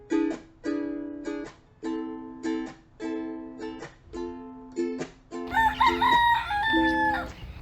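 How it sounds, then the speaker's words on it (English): Repeated rooster crows in a steady rhythm, about one every second, with clucking and another bird call joining toward the end, during the Ching Ming Festival in Hawaii. "the sudden appearance of all these roosters"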